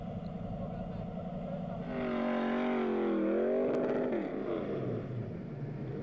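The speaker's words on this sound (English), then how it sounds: "A perfectly placed camera was able to capture this moment when Balazs came unstuck, or should I say stuck, in the sand" A rally vehicle stuck in sand during the Silk Way 2011 rally revs its engine hard, the pitch climbing, wavering and then falling away over a steady background rumble.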